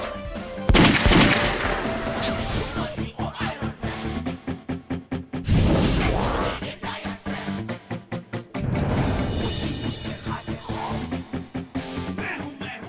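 Rapid bursts of gunfire in a Hindi superhero TV comedy episode, a dense rattling volley that stutters on and off over a music-heavy soundtrack, loud and close throughout.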